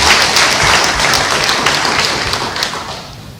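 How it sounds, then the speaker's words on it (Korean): Warm applause in a church as a congregation welcomes a guest, a loud, dense, continuous roar of many hands clapping that holds steady before easing slightly at the end. "우리 뜨거운 박수로 환영하겠습니다"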